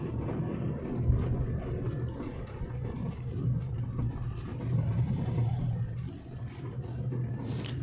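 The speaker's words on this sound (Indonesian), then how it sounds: "yang ketemu sama kita itu kolbak sama truk seperti ini, isinya kayu." Pickup and truck loaded with wood passing on a road through a cut pine forest near Gunung Lio, Majenang, heard as a steady low engine rumble that stays close and fairly loud for the whole stretch.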